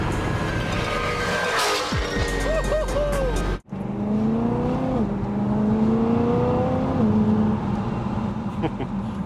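A tuned BMW M3 E92 with a DCT gearbox accelerates hard from inside the cabin, its engine note climbing and then cutting sharply for a quick gear change before pulling on, loud and close.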